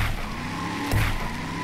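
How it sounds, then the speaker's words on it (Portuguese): Car engine revving up in the building game Brick Rigs, a steady motor drone that swells briefly near the middle, heard on its own with no talk. "Vai, acelera aí pra nós ver."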